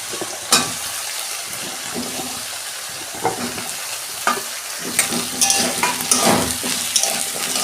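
Potato and eggplant pieces dropped into a spice paste frying in a pan, with a continuous sizzle broken by several sharp scraping and clattering stirs of the spoon and no talking.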